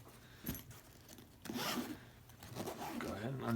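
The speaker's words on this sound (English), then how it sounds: "It's got a nice zipper on it, leather feel on the outside here." A zipper is drawn along a ZesGood fireproof battery storage bag with a leather-feel exterior, giving short, close rasping pulls, while someone talks over the sound.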